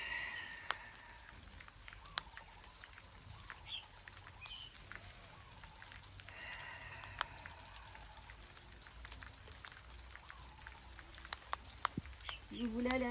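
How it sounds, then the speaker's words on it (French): Scattered raindrops patter outdoors on a surface, with faint birds chirping now and then and a low speaking voice in the background. "Et quelques gouttes de pluie, c'est génial."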